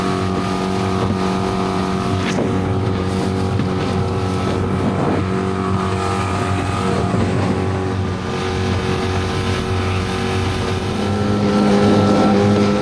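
A motorized dinghy runs across open water with a steady, loud outboard engine drone and wind buffeting the microphone throughout, continuous and close.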